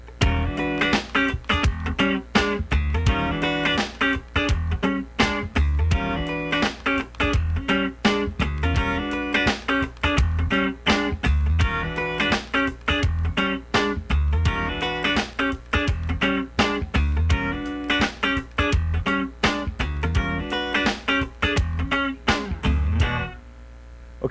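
Funk rhythm guitar played with a swing feel, a dense run of fast, percussive strummed chords with muted scratches and a steady groove, loud and close, lasting until a brief stop at the end.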